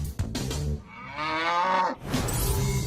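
Cows moo in a long, loud, drawn-out call, preceded by a shorter low lowing, close by with no talk over it.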